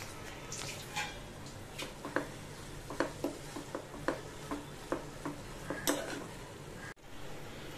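A spoon stirring ground cardamom powder into bottle gourd halwa in a pan, with soft irregular scrapes and taps against the metal at a steady pace, quiet and close, ending in a brief thump.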